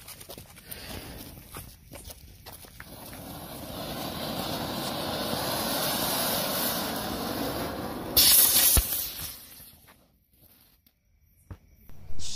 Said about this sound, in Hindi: सो गाइस पहला था हमारा ये अनार प्लस रॉकेट जो कि बहुत यूनिक टाइप का चलेगा